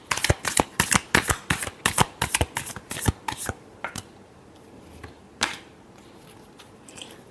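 Tarot cards are shuffled by hand close up. A quick run of crisp, rhythmic riffling snaps lasts about three seconds, then thins out to a few isolated taps and one last flick.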